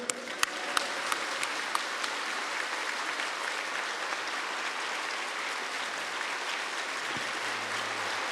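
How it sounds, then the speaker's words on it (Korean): A standing Korean church congregation gives a warm welcome with sustained, even applause from a large crowd, a few sharper claps standing out at the start, and a faint low murmur near the end. "다 일어서셔서 큰 박수로 환영하십시다"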